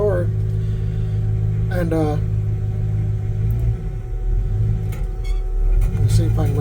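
A built 350 V8 with a factory 4-speed in a 1966 Chevrolet idles with a steady low rumble in a garage, loud and close, while someone talks over it.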